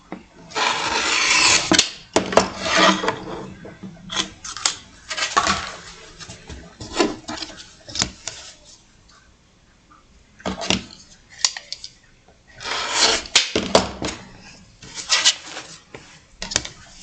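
Fabric being trimmed during sewing, a narrower blue piece cut down to size: rasping snips and rubbing strokes come in bursts with short pauses, close and fairly loud, no talking.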